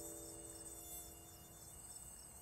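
Cartoon mosquitoes buzz in a steady, thin, high-pitched drone that holds without a break, faint and continuous with no talk.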